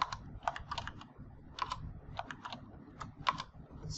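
Typing on a computer keyboard to enter a prompt, with irregular quick bursts of light key clicks and taps, close and fairly quiet, no voices.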